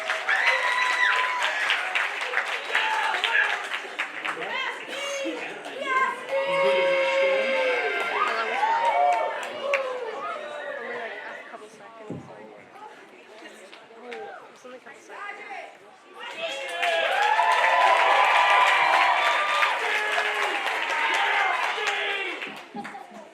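A theatre audience at a staff talent show applauds and cheers, a broad wash of clapping that dips to a lighter patter mid-way, then swells loud again, with some voices mixed in.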